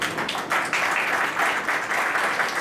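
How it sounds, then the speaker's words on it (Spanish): Audience applause at a round-table panel session of a library and information research colloquium, a steady dense wash of clapping hands filling the whole stretch at moderate level with no voices over it. "Aquí le pido un aplauso"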